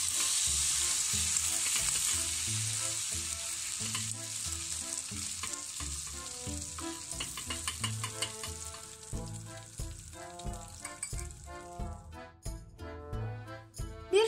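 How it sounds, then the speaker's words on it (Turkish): Butter melts in a frying pan on the stove, a steady bright sizzle and crackle running throughout, with occasional rhythmic clinks and stirring knocks of a utensil against the pan toward the end. "2 yemek kaşığı tereyağını bir tavaya alıp eritelim."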